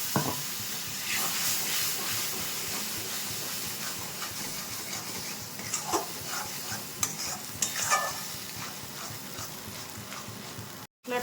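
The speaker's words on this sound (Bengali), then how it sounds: "একটু জল দিয়ে দিচ্ছি মশলাটা" A Kashmiri dum spice paste with red chili powder sizzles in a pan after a splash of water, a sustained hiss with repeated scraping stirs and occasional louder crackles, cutting off abruptly at the end.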